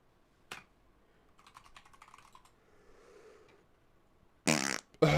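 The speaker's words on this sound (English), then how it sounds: "Big wet fart noises." Keyboard typing and faint clicks lead into a loud, wet fart noise that sounds twice near the end, the last one cut off.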